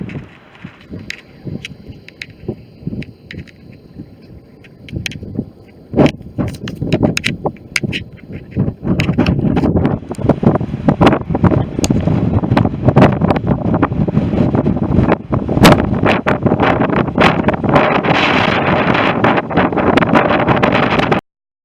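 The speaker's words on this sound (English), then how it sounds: "and it's bloody windy." Strong wind buffets the microphone outdoors in rain, a rough, roaring rush that starts moderate and grows louder and steadier from about six seconds on, with gusty bursts and no speech.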